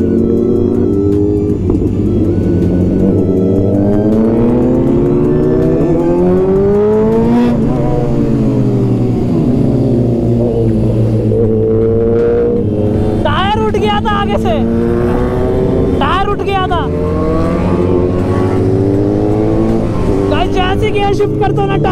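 A Kawasaki Z900 superbike's exhaust while riding on an open road in strong wind, with loud rising and falling revs through gear shifts and sharp bursts of acceleration, and a rider talking over it at times.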